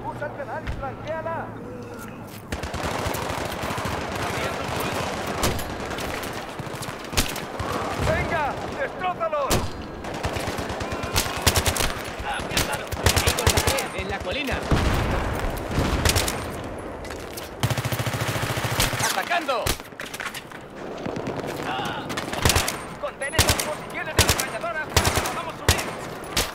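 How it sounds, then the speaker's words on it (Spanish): Enemy machine-gun fire in the Battlefield 3 campaign rattles in dense, sustained bursts alongside other gunfire and explosions, with soldiers shouting over the combat throughout. "Ametralladora enemiga al otro lado."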